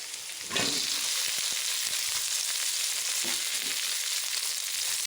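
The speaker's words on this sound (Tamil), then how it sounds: "வெங்காயம் நல்லா வதங்கட்டும்" Onions sautéing in a pan with mustard seeds and cumin, a sizzle that bursts in abruptly and then holds steady and even, with a few faint knocks of stirring and no voices.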